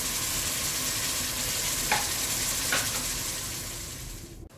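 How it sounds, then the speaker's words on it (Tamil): Five green chilies and two large onions sautéing in a pan after ginger-garlic paste, a steady loud hiss of frying with two brief stirring scrapes, ending in a short clatter. "இப்போது அதில் 5 பச்சை மிளகாய், 2 பெரிய வெங்காயம் சேர்த்து அதையும் நல்லா வதக்கணும்."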